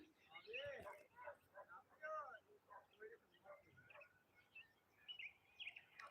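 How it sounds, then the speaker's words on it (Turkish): Birds chirp and tweet in the background of a garden while people talk over them outdoors, the calls fairly faint and intermittent. "Kuşların sesini duyuyor musunuz?"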